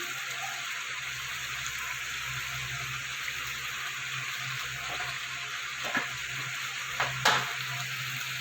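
Spiced masala for a Bengali rui fish curry sizzles steadily as it fries in a pan, a constant close hiss with a few faint scraping stirs near the end.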